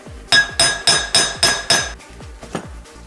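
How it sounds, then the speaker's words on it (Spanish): Sharp metallic hammer blows strike a rivet in a steady rhythm, about six loud ringing hits followed by a few softer, quicker taps close by, while making a handmade fishing rod. "vamos a pasar a remacharlo"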